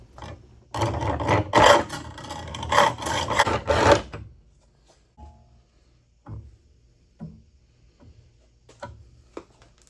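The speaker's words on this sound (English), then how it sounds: "then cut a 45 with the hacksaw" A hacksaw cuts a 45-degree angle across the end of a steel froe blade. About three seconds of steady, rasping back-and-forth strokes sound close and loud, then stop, leaving a few light knocks and taps.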